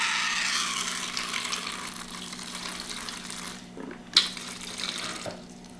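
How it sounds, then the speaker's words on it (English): Water squirted from an irrigation flush bottle into a tarantula enclosure, a hissing spray lasting several seconds that tapers off, followed by a brief sharp drip or tap and faint trickles, close with no talking. "We squirt water in."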